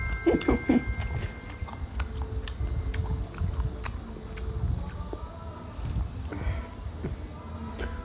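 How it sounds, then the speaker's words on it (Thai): Someone eating homemade fried shrimp with egg, crisp crunchy bites at first, then steady wet chewing close to the microphone. "วันนี้ผมมากินกุ้งทอดครับ"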